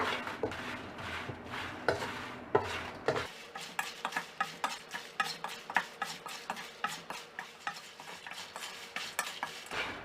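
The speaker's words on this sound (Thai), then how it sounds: "คั่วด้วยไฟอ่อนไปเรื่อย ๆ จนกระทั่งพริกเนี่ย สุกแล้วก็กรอบดีนะคะ" Chilies dry-roasted in a pan over low heat, a dense run of quick, close scraping and stirring strokes with light crackling, loud and steady with no voices.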